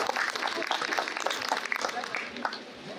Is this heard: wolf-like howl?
no